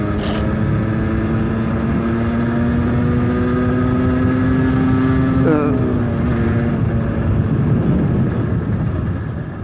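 A 50cc motorcycle engine drones steadily on a road with winding bends, its pitch holding then dropping as it eases off, with wind rush throughout.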